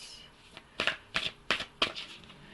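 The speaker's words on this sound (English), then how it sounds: "I'm also going to shuffle the Angel and Ancestor Oracle" Angel and Ancestor oracle cards being shuffled, giving four quick crisp riffling bursts in an even rhythm, close and fairly loud, with no voices.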